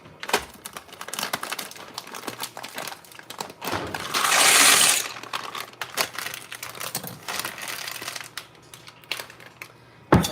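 Two bags of dry penne pasta rattle and crinkle as they are poured into a pot, with crackling plastic bag handling and a rushing pour of pasta in the middle, close and with no talking.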